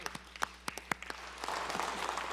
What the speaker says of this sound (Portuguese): Solicito uma salva de palmas para os jovens que estão aqui